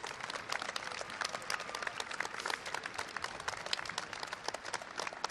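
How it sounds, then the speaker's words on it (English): Crowd applause at a charity football match, a dense, steady wash of clapping that carries on evenly throughout with no break and no voices. "give yourself a big round of applause for supporting today's events"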